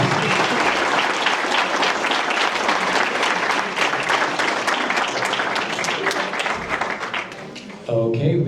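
Audience applause fills a mayoral and city council candidate forum at a community center in Roswell, a dense, steady roar of many hands clapping that holds for several seconds and thins out briefly near the end.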